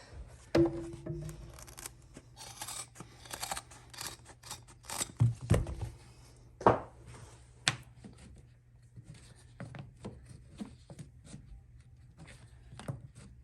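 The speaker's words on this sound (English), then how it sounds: "I'm gonna take that scrap piece of carpet that we cut. I'm gonna cut that at 3 inches exact." Scattered close snips and scrapes of a blade cutting a scrap piece of carpet to size during a stair runner install, quiet and irregular with pauses between cuts.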